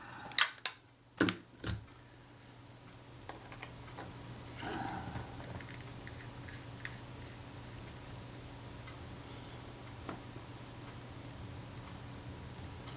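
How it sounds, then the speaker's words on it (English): A Kodak Retina IIIC camera shutter fires on its self-timer: a few sharp mechanical clicks early, then a faint whirring run-down with soft ticks, close and quiet. "That's the shutter running down on the self-timer."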